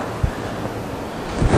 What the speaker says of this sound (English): So I'm going to drop this bag into my water.